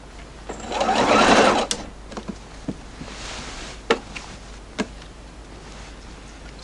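An industrial Juki sewing machine stitches binding onto a scrappy quilt, with a loud steady burst of needle hum in the first seconds, then quieter clicks and occasional sharp taps as the fabric is handled.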